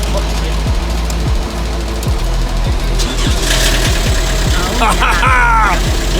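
A diesel engine idles with a steady low knocking rumble, close and loud, while excited voices talk over it.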